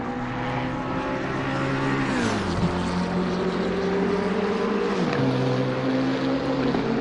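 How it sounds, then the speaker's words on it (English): Race car engines growl steadily and loudly on a track, a continuous throaty drone with audible pitch shifts as the cars change speed, heard alone without voices. "the growl of those engines"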